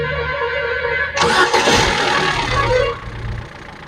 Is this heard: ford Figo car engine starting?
yes